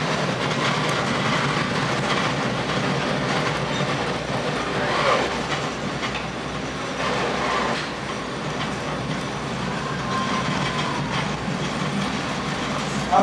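Arkansas & Missouri Railroad passenger train rolling along the tracks toward a tunnel, a steady loud rumble of wheels with faint clickety-clack and occasional squeals, continuous throughout without talk.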